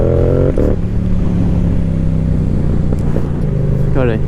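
A Yamaha R7 motorcycle engine runs close and loud, holding a steady idle-like drone with a brief rev near the end, while someone talks over it.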